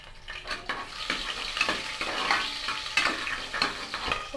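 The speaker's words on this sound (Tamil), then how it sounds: "இப்போ இதில் பச்சை மிளகாய் போட்டுடலாம்." Green chillies sizzle in hot oil with cinnamon and cloves for a mixed vegetable kurma, with a steady fry under repeated scraping stirs of a spoon against the pan, close and fairly loud.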